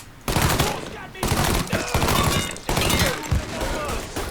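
Bursts of rapid gunfire in Mafia III, loud and close, separated by short pauses, with thumping impacts between volleys.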